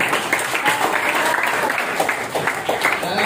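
Loud, dense clapping from a large group of school students in a hall, continuous and close, with some voices mixed in beneath it.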